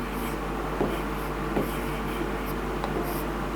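A teacher writes a trigonometry formula on a board in a classroom with short, scratchy strokes at a few separate moments over a steady background hum.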